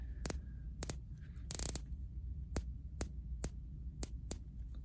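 Ratcheting clicks of a 60-click bezel on a Tudor Black Bay 58 watch being turned, a quiet, close sequence of crisp single ticks spaced irregularly, with one fast cluster of several clicks, over a faint low hum.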